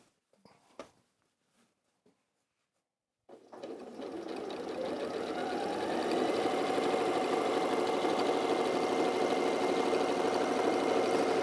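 A domestic sewing machine stitching a quarter-inch seam in a quilting design roll race, starting after a few soft handling taps and silence, then running as a steady, loud, whirring motor with rapid needle rhythm.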